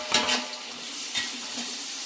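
Half a kilo of tomatoes frying and being stirred in a pan, with a soft continuous sizzle and a few brisk scraping strokes of the spoon, close and clear.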